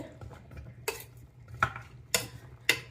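A spoon stirs Jaffna-style fish curry in a metal pot, making four sharp scraping clinks about half a second apart over a faint low bubbling, close by and with no speech.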